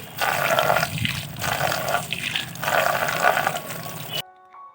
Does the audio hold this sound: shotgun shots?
no